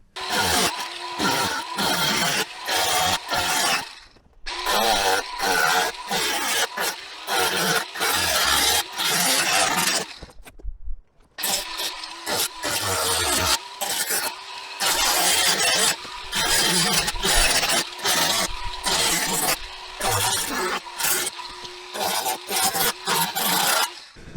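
A DIY carbon fibre car bonnet is trimmed with a power tool, giving loud harsh grinding and rasping bursts in repeated passes, with short pauses and a longer break midway, close by.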